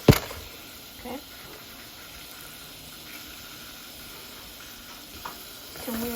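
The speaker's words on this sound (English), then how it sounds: "we're gonna mix this around until our lentils are basically coated with our seasoning" Lentils fry and get stirred with garlic, paprika, onion, cumin and oregano in a pan for vegan tacos, giving a steady faint sizzle with a few soft scraping clicks of stirring, fairly quiet throughout.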